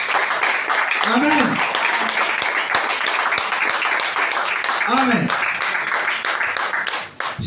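A church congregation in a tabernacle in Libreville, Gabon, keeps up loud, continuous clapping and cheering, with a couple of sung or shouted calls rising above the crowd noise and a few words spoken over it.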